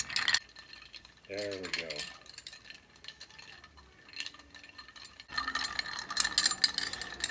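Ice rattles and clinks in a glass as a classic martini is stirred, a busy ratcheting clatter in two stretches around a quiet pause where someone briefly speaks.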